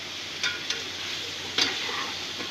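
Whole spices, garlic, ginger and tomato sizzle and fry in a pan for chicken pulao while a spoon stirs them, giving a steady close sizzle broken by a few scraping stir strokes.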